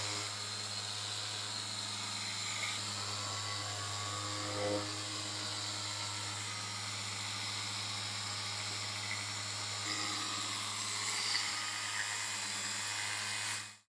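RUPES Bigfoot HLR75 Mini iBrid random orbital polisher running steadily, a constant whining motor hum with airy hiss, close and unbroken for the whole stretch.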